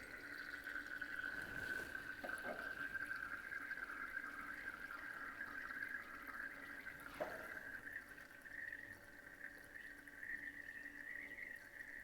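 Distilled water rinses through a laboratory burette during flame photometry preparation, a faint, steady trickling wash with a brief splash partway through, heard alone with no talking.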